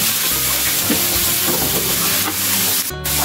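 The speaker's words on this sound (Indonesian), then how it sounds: "Wortel masuk. Aduk lagi sampai tercampur rata ya." Carrots are stirred into a frying egg and rice vermicelli filling for pastel pastries. A steady, close, loud sizzle runs throughout, with soft scraping stirs and a brief clatter near the end.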